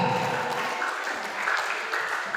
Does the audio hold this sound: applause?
yes